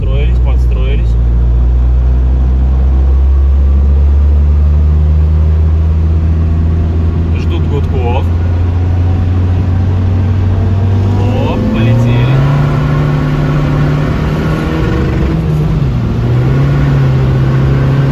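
Diesel race cars pull off at a diesel drag race, a loud, steady engine drone rising in pitch as they rev and accelerate, with people talking over it.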